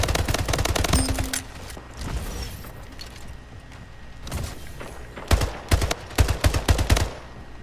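Bursts of automatic gunfire from the video game Splitgate, loud and close, in rapid rattling volleys with short pauses and a few heavier thumps between, no talking.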